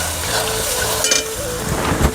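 Masala and whipped yogurt being stirred in a frying pan, a steady low sizzle with scraping strokes of the spoon running close and continuous, no voices.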